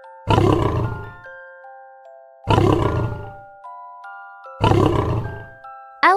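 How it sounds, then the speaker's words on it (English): A lion gives three loud, close roars spaced evenly apart, each a deep rumbling burst, with light chime notes sounding in the gaps. "Lion, roar."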